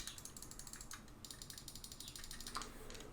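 A few sharp, quiet clicks from the side buttons of a G-Wolves Hati S computer mouse, spaced irregularly, close up against a faint background hiss.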